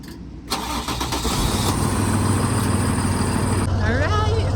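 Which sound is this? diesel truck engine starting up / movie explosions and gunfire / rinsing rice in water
diesel truck engine starting up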